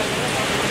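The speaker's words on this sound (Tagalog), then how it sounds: "Lakas ng ulan dito sa Vietnam." Heavy rain pours at night in Hanoi, Vietnam, outside a temple, a dense, steady hiss that is loud and close throughout the brief moment.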